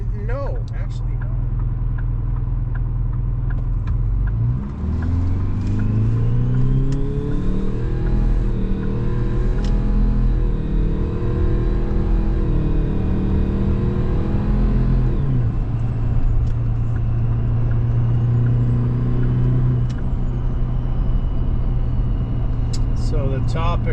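Detroit 4-53T turbocharged diesel engine with 50,000 miles, running steadily at close range with a loud, continuous low rumble; engine note rises and sweeps in pitch mid-clip before settling back to a steady idle-like drone.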